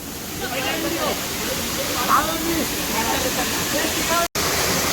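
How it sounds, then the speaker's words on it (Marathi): Chander waterfall in Malvan, Konkan roars as a steady broadband rush, loud and close, with a brief dropout near the end. "आणि हा समोर धबधबा आहे चांदे धबधबा"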